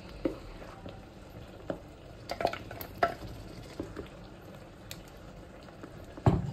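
Ground tomato is stirred into a hot pan for South Indian tomato chutney, with a low steady sizzle under scattered utensil scrapes and soft clinks, close by with no talking.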